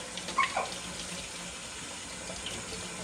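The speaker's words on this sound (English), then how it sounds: "We need to rinse it in cold water." Cold tap water runs continuously into a sink, a steady splashing stream close by with a few brief clinks early on and no talking over it.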